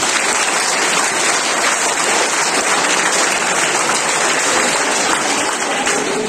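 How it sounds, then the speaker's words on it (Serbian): A hall of people gives loud, sustained applause for new first-grade pupils at a school welcome ceremony in Vladičin Han, Serbia; the dense clapping holds steady throughout. "molim za njih jedan veliki aplauz"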